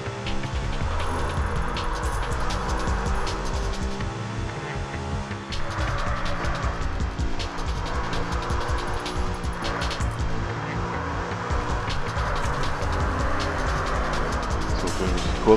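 A Subaru rally car engine drones steadily in a racing video game, a loud continuous hum with slight rises and falls in pitch throughout and no break.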